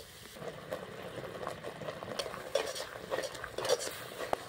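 A sweet milk filling for patishapta pitha is stirred in a pan, with soft scraping and light tapping of the spoon over a faint simmer, spread out and unhurried.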